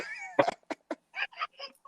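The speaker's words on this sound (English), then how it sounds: "my cats are so fucking loud" Several cats meowing loudly in a string of short, separate cries, one long wavering meow followed by quicker yowls, close and indoors.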